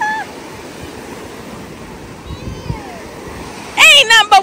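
Steady wash of ocean surf rolling onto a beach on a Fourth of July beach day, a continuous broad roar with swelling rises, and a voice calling out briefly near the end.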